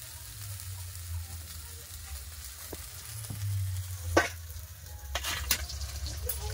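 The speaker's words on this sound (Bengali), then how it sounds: "এতক্ষণ দেখছিল মেয়ে মাছ ভাজছিল" Katla fish sizzles in hot oil in a pan, with a steady frying hiss and a few sharper spits and crackles. No one speaks.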